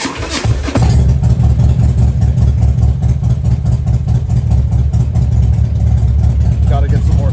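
A Harley Road King motorcycle engine cranks briefly and then settles into a loud, steady, low rumbling idle that carries on to the end, with a voice speaking over it.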